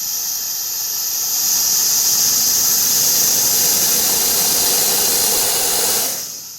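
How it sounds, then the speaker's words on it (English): Steady air hiss from the brake pedal valve of a Volvo VNL truck that has no brake lights until the pedal is pressed hard, a continuous loud rush that holds for about five seconds and then cuts off. "You can hear the air come out."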